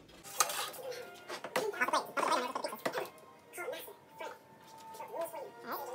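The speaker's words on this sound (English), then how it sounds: "Now put your pizza on the pan." A pizza pan is handled in a home kitchen with a few clanks and metallic clinks scattered among the voices of a child and an adult chatting nearby.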